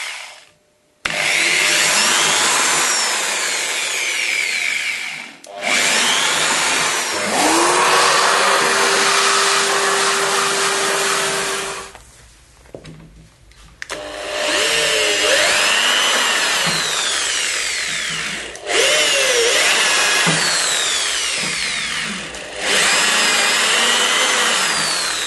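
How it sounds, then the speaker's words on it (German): Drill boring pilot holes with a 3 mm bit while building an airport diorama, in several long, loud, steady whining bursts separated by short pauses, the pitch sagging and rising as the bit bites. "Danach wird mit einem 3 mm Bohrer vorgebohrt"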